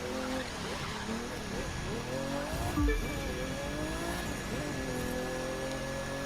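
Street race cars speed through a night-time race in the video game The Crew 2, and a steady engine drone holds throughout with shifting gear tones and a brief louder whoosh midway. Quiet talk runs underneath.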